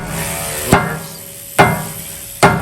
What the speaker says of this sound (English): We're only using the rubber hammer because I'm keeping the rotors.